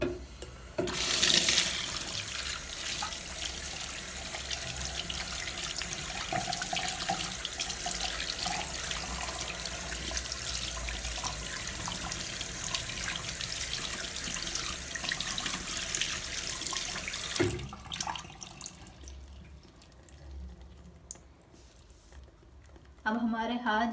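A tap runs steadily at close range for about eighteen seconds while hands are rinsed of soap, then cuts off, with someone talking over the flow.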